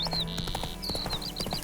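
Horse hooves clip-clop steadily at a brisk pace in The Witcher 3 video game, heard close over constant background game ambience.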